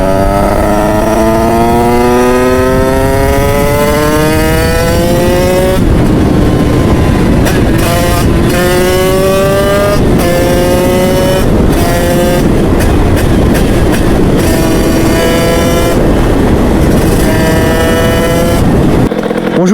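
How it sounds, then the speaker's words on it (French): Small 50cc motorbike engine recorded from outside, loud and close, its buzzing tone climbing steadily, then revved in repeated sharp blips and falling back to a rattling idle between them. "je vais vous faire écouter la moto d'extérieur avec l'iPhone"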